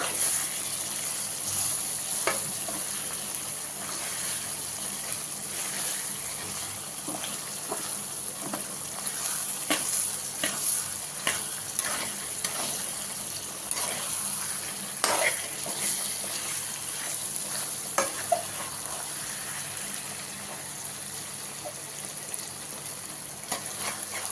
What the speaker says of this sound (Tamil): அந்த தக்காளியும் சிக்கனும் நல்லா ஃப்ரை ஆகி நல்லா கலர் வரும்